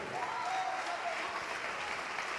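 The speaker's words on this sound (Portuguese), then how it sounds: "vamos aplaudir mais, igreja" A church congregation applauds during a service: fairly quiet, steady mass clapping throughout, with a voice faintly audible under it.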